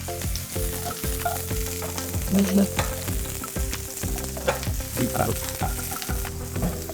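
Chopped onions and eggplant sizzle in a hot oiled pan, a steady crackling fry with scraping and stirring clatter over a low tonal hum.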